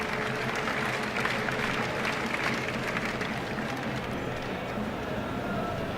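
Spectators applaud at a 1989 Pakistan versus Sri Lanka tri-series cricket match, a steady wash of distant crowd clapping under a commentator's voice.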